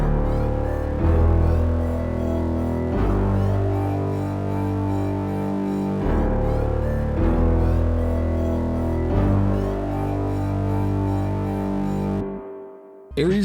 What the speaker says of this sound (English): Then I added this huge synth bass thing with a few different sounds layered with a bunch of distortion